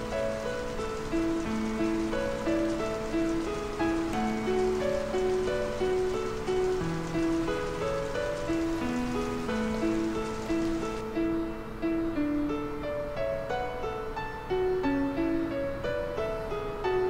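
Rain falling in Final Fantasy VIII as Squall stands beside a pillar, a steady soft hiss of rainfall running under a looping melodic music track for the whole stretch, with no voices.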